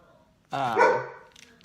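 A single loud, close dog bark from a pet dog, followed by faint small noises in a quiet room.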